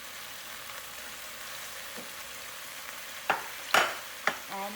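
Oxtail sautés with ginger garlic paste in a pot under a soft, steady sizzle, broken near the end by a few sharp scrapes and clatters of stirring.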